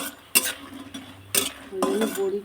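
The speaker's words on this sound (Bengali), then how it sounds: "ওই জন্য বড়িটা আমি আগে ভেজে নিলাম।" Bori, small lentil dumplings, frying in oil in a pan for a tilapia, potato and pointed gourd curry, with a soft sizzle under sharp spoon scrapes and clanks against the pan at a few spaced moments.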